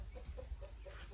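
A few quick, quiet clucks from chickens being caught in a brief burst, over low background noise.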